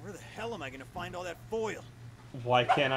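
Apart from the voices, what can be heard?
No everyday noise stands out behind the speech.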